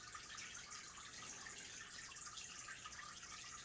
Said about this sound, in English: all the CO2 bubbles are getting blown into the water